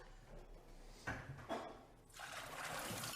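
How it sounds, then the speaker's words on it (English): Soaked legumes for ful medames drained of their water, a short sloshing pour and splash of liquid with a couple of louder gushes, close by and free of talk. "I will drain the water of the"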